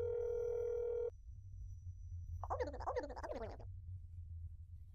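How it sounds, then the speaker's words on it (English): A steady dial tone in That's Not My Neighbor cuts off, then a brief warbling chirpy burst follows over low background hum as the call connects. "let's see who answers the phone"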